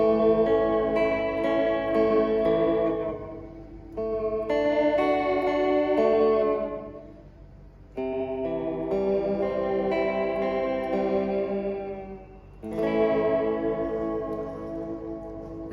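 Sustained electric guitar chords ring out through a Fender Reflecting Pool delay pedal, soft, slightly dulled echoes trailing behind each phrase, played in several long passages with brief gaps.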